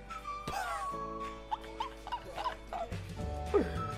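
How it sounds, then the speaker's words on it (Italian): Dogs barking and yipping among other sounds, several short, sharp barks scattered over a few seconds along with whines and squeaky noises, moderately loud. "Due cani."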